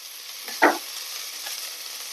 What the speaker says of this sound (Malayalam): ഈ അരിഞ്ഞു വെച്ചിരിക്കുന്ന ചീര അതിനകത്തേക്ക് ഇട്ടൊന്ന് ചെറുതായിട്ടൊന്ന് വാട്ടിയെടുക്കാം